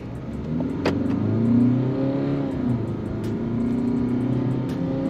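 A diesel Hyundai Alcazar accelerates under applied throttle, its engine note rising in a smooth, steady, fairly loud drone with no voices.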